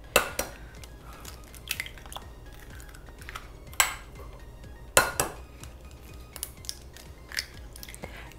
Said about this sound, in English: I'll crack my eggs right into the center